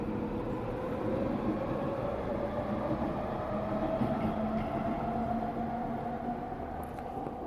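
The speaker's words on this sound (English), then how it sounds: "Train." A steady, continuous rumble of a train rolling past at moderate distance, with a faint rising whine over the low roar and no voices.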